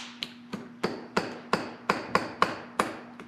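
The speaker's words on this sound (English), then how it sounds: "I'm going to try using my chisel like this." A chisel struck with a hammer against an M35A2 air pack during teardown gives nine sharp, evenly spaced metallic taps, close and clear, with nothing else heard.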